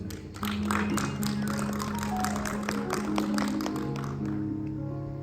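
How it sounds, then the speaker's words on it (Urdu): A church congregation at an Urdu Christian sermon gives a burst of clapping, many hands patting quickly and fairly quietly, with a sustained organ-like musical tone underneath, fading slightly toward the end. "آؤ اس کے لیے زوردار تالیاں"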